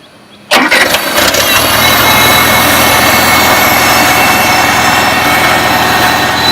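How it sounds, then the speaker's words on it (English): A 1975 International Farmall Cub tractor engine cranks and catches after brief quiet, then settles into a steady, loud, even running note close by that continues to the end with no talk. "The tractor runs strong, with zero smoke. Runs really smooth."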